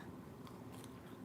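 Someone bites into a crunchy, tart salad with cucumbers and spinach, giving a few close, crisp crunches and chewing sounds, with no talk.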